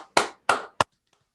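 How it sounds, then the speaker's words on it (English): Three sharp claps ring out close and separated, the last one cut short, then near silence follows as the sound drops away. "You started clapping and then it just sort of like the volume just disappeared for a second"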